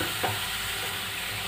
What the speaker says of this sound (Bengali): মশলাটাকে খুব ভালো করে ভেজে নেব